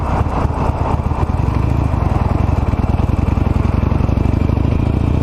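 A 16-year-old Harley-Davidson Nightster rumbles loudly while riding at night, its engine pulsing in a fast steady throb up close with road and wind noise layered over it.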